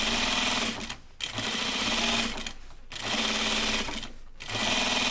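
A sewing machine runs in steady, loud bursts as it understitches a slightly wiggly fabric, with brief pauses between runs of stitching and no voice over it.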